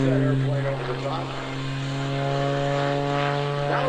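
Cap 580 aerobatic plane performing a routine at an airshow: a steady propeller engine drone with a strong buzzing pitch that shifts slightly as it maneuvers, heard under a commentator's voice.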